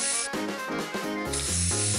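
An aerosol paint spray can releases a steady, bright hiss that holds for about two seconds, mixed with tonal music playing underneath.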